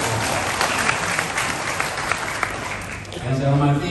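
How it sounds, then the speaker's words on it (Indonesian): Audience applause at a community gathering of religious and ethnic leaders in Medan, a dense steady wash of many hands clapping that swells louder near the end, with a voice rising over it in the final second. "tepuk tangan buat"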